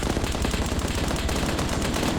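Rapid continuous gunfire in a military video game on a small island battlefield, dense and loud automatic bursts rattling without pause throughout, close and harsh.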